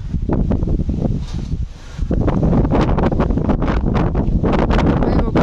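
Steady wind buffets the microphone in loud, rough gusts with a low roar, briefly dipping before surging again.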